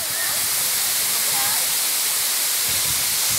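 The Cachoeira dos Ciganos waterfall near São José dos Pinhais, Paraná, pours with a loud, constant, dense hiss heard close up, and faint voices are partly buried beneath the rush of water.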